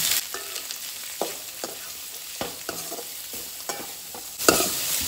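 Sliced onions sizzle in a pan for Goan chicken chilli, a steady frying hiss broken by repeated scraping stirs of a spoon, close and fairly loud, with no speech.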